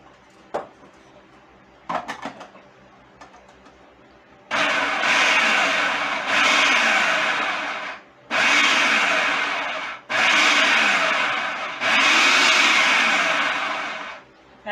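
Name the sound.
food processor pulsing chopped cabbage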